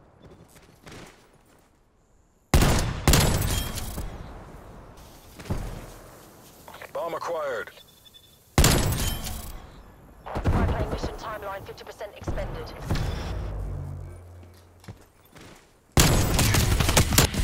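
Hand cannon fire in a first-person shooter video game: loud, sharp gunshot bursts spaced irregularly, some close together, with a player talking between and over the shots.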